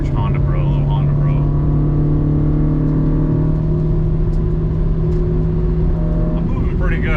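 Honda Civic VTEC engine droning loud and close from inside the moving car, holding a steady high-revving tone with a rising pitch sweep near the end.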